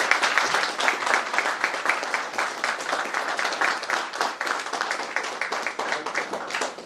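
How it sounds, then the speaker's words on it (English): An audience gives a steady round of applause for Kate, dense even clapping that holds evenly throughout. "a round of applause for Kate and all her work"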